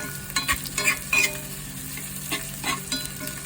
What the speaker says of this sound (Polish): i smażymy przez 15 minut.